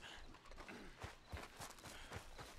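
Horse hooves clip-clopping in Red Dead Redemption 2, a series of soft, fairly even thuds at a walking pace heard close, with a low rustle of the outdoor game world behind them.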